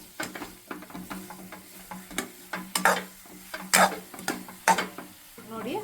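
Aloo paratha potato stuffing is stirred in a hot, lightly sizzling pan, with mustard seeds among the ingredients. A spoon scrapes and taps against the pan in an irregular rhythm over a soft frying hiss, close by and with no voices.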